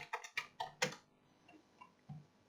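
Keys clack on a computer keyboard as a year is typed into an Excel spreadsheet, four or five quick crisp taps close together, then a couple of softer isolated clicks in quiet.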